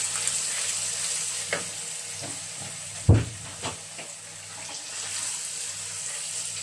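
Fried beef in tomato sauce for Nigerian jollof rice sizzles in a pot while being stirred, a soft continuous frying hiss broken by a few scraping stirs and one louder clunk.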